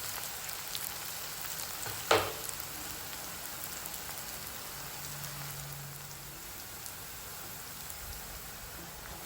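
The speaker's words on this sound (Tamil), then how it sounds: "இப்போ வெங்காயம் நல்ல டீப்பாக ஃப்ரை ஆகுது." Onions deep fry in oil for chicken uppu kari, a continuous rain-like crackle of bubbling oil near the mic with a single sharp clink early on and no talking.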